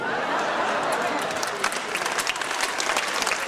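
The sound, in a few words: audience applause at a comedy show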